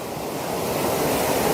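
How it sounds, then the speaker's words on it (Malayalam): Ocean waves washing onto the shore at Aazhimala on the Kerala coast in the evening, a steady close roar of surf that swells slightly toward the end, with no voices. "അതുകൂടെ നല്ല തിരമാലയുടെ ശബ്ദങ്ങൾ"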